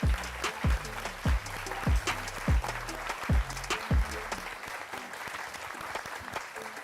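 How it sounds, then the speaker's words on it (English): An audience applauds the Nations Cup competitors at a live Gran Turismo World Series broadcast. The clapping is steady and fairly loud, with recurring low thumps sounding at regular intervals under it. "Let's give them a big round of applause."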